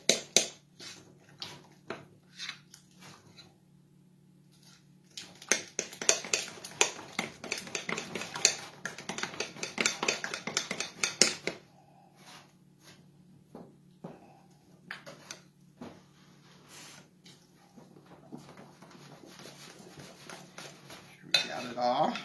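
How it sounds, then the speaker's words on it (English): Lemon blueberry cake batter is mixed in a bowl: a utensil scrapes and taps against the bowl in quiet stretches, then a longer run of rapid clinking stirs before it eases off, with faint room noise. "So we're going to mix this all up."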